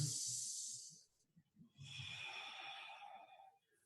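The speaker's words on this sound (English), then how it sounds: "Everybody take 3 big deep breaths." A person takes big deep breaths, a long airy inhale followed by a slow breathy exhale, close and quiet, with faint low voice murmurs between them.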